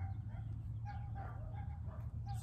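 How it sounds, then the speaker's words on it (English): Faint dogs bark in the distance, a few scattered yaps over a low steady hum. "Sorry for the dogs barking."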